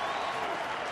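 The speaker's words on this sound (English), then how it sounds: "Here comes the crowd." A baseball stadium crowd cheers in a dense, steady roar with applause after a Justin Verlander curveball at a Detroit Tigers home opener.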